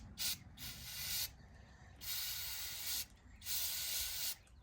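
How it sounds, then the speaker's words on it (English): Carb and choke cleaner sprays onto a dirty spark plug from a Craftsman rototiller in three close hissing bursts of about one second each, with short pauses between them. "I'm going to spray the spark plug off a little bit"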